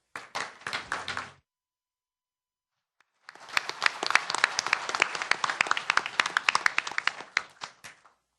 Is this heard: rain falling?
no